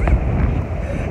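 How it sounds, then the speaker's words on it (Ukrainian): Heavy wind thumps and rumbles against the microphone in a short, loud gust on a street in Odesa, a dense low roar with no speech. "У нас сьогодні весь день сильний вітер."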